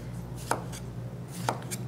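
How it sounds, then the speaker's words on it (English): A knife slices fresh cucumbers on a board in a cooking demonstration, making two or three distinct crisp chops about a second apart over a quiet room background. "And then just slice the cucumbers."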